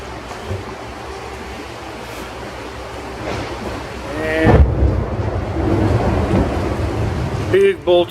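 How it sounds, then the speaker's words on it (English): Deep thunder from a big lightning bolt outside rolls in halfway through and keeps rumbling, heard indoors beside an Atlas Copco SF4 air compressor and dryer unit over a steady background hum. "Big bolt of lightning outside."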